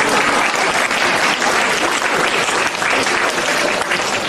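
Sustained applause from an audience at a Buddhist dharma assembly in Aarhus, Denmark, steady and dense across the whole stretch with no voices breaking through.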